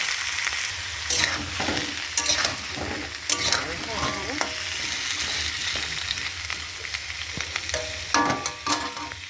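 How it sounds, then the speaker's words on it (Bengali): Potatoes with bay leaves frying in a pan produce a close, steady sizzle with repeated scraping and clattering stirs throughout, and no speech over it. "আলুটা দিয়ে দেবো, আলু একসঙ্গে কষা"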